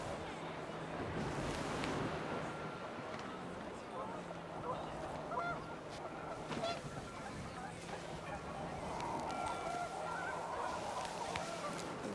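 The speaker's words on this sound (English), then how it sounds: "The wind picked up, and panicked geese appeared and quickly went." Panicked geese honk in the wind in the What Remains of Edith Finch video game, several loud overlapping honks and squawks over a constant gusty rush that stay close throughout.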